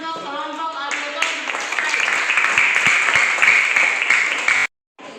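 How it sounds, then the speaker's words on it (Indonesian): A brief voice gives way to a burst of group clapping for a student auditor group in a classroom discussion session, loud and close, swelling and holding for a few seconds before stopping abruptly. "tepuk tangan dulu untuk kelompok auditor"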